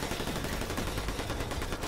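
Rapid gunfire from a gun in the video game Fortnite, a dense, continuous burst of shots that fills the clip without pause, loud and steady throughout.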